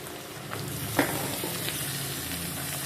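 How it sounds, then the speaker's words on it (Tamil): Brinjal sautéing in oil in a pan for a semi-gravy, a steady close sizzle and crackle with a brief stirring clink near the middle. "இதுவுமே ஒரு 2 நிமிஷம் இந்த எண்ணெயில் நல்லா வதங்கி வரட்டும்"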